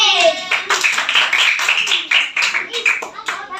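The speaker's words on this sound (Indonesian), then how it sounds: "Tepuk tangan untuk kawan." Children in an elementary school classroom clap their hands together in a rhythmic burst, with young voices chattering and calling out over the claps, close and lively.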